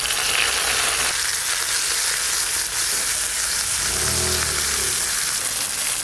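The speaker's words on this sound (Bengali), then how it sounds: "নিম পাতাগুলো একটু ভালো করে তেলেতে ভেজে নেবো" Neem leaves fry in mustard oil in a pan, giving a loud, dense, continuous crackling sizzle that runs steadily throughout, with a low rumble joining partway through.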